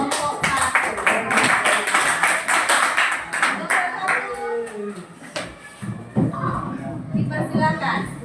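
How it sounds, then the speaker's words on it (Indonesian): Students in a classroom applaud a presenting group with a burst of quick, close handclaps lasting a few seconds. The clapping then fades as voices take over and people keep talking. "Beri tepuk tangan untuk kelompok 1."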